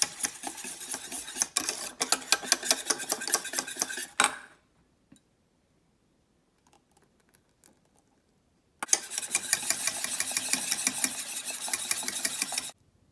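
Passion fruit juice being stirred into a curd mixture in a bowl, with brisk clinking, scraping spoon-on-bowl sounds in two bursts separated by a few seconds of near silence.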